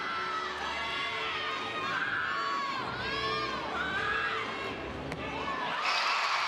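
Energetic crowd at a college women's gymnastics meet, Oklahoma Sooners hosting Arkansas at Lloyd Noble Center, cheers and shouts loudly and continuously, with rising whoops and whistles throughout.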